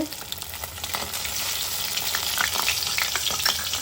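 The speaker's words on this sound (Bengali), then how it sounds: "মাছ ভাজা চলছে" Fish frying in a pan gives a steady, close sizzle with crackling pops throughout, no talk over it, during home cooking for a Bhai Phonta family meal.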